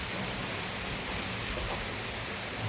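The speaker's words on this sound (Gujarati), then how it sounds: "હવે જો વરસાદ જો" Rain falls in large drops, making a steady, dense hiss that holds evenly throughout, heard alone without any speech.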